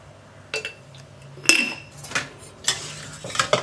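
A spoon scrapes and knocks against a cooking pot while rice, water and salt are stirred together for jeera rice, giving several distinct metallic clinks and scrapes at irregular intervals, close up.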